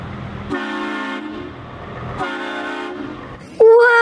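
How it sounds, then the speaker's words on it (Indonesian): Two sustained toy Thomas train horn toots, each about a second long, followed by a brighter whistle-like electronic tone at the end. "kereta api Thomas. Keren sekali"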